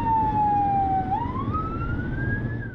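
Ambulance siren from a SAMU emergency unit on the streets of Aracaju, Brazil: a loud, close electronic tone dips and then climbs steadily in pitch over a constant rumble of road traffic and engine noise.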